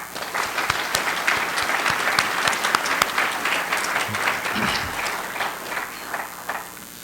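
Sustained, dense applause from a gala audience at the TiE Toronto TiEQuest 2012 event, many hands clapping at once in a bright, even roar for about seven seconds.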